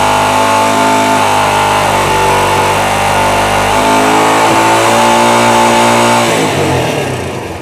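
A motorcycle engine idles and revs during a stator test, a loud, close mechanical drone with shifting pitch that holds high and then winds down at the end.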